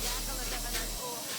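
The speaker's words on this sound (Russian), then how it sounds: "Моем посуду." Running tap water while dishes are washed in a messy home kitchen, a steady broadband hiss of flowing water that holds constant for the whole stretch with no voices over it.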